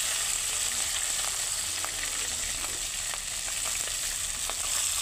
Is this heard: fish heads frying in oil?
yes